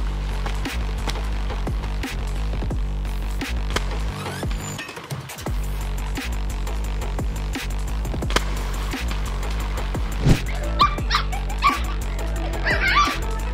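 A puppy yips, whimpers and barks at a crab, with short, sharp bursts scattered through continuous loud background music or noise.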